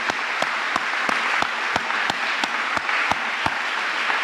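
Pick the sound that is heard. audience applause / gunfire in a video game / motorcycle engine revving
audience applause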